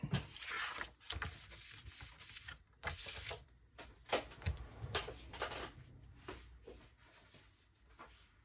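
Paper is creased and rubbed for folds in a scrapbook pop-up, a series of close, dry swishing strokes and soft scrapes in an uneven rhythm, quiet and alone.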